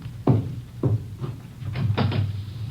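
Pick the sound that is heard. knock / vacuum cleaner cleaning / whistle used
knock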